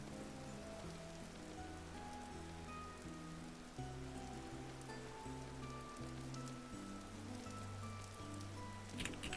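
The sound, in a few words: rain in a video game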